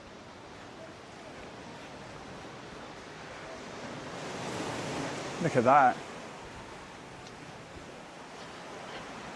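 Surf crashing below clifftop castle ruins makes a steady, broad roar that swells midway, with wind across the microphone and a brief spoken voice over the rush of water.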